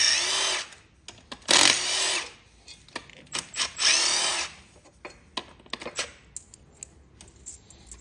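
A power tool, likely an impact driver, whirs in short bursts while removing bracket bolts from a Honda H22A engine in a car, with two longer loud runs and then scattered clicks and metallic taps.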